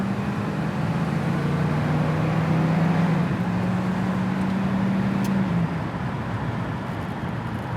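A 1969 Camaro RS/SS Indy 500 pace car engine idles with a low, steady rumble that holds even, then eases off slightly near the end, with no voices over it.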